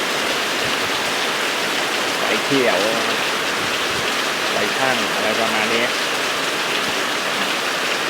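Steady rain falls as a dense, even hiss throughout, with someone speaking briefly over it twice.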